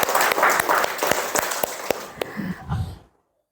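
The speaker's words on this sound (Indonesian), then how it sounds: "Tepuk tangan untuk Bari." A classroom of students applauding a classmate, brisk scattered clapping for about two and a half seconds that thins into a few last claps and then stops dead into silence.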